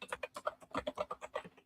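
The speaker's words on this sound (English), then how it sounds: "Emily, if you could type at thetechrecruiters.com" Rapid typing on a computer keyboard, about a dozen crisp, close keystrokes in a quick, uneven rhythm, with no voices.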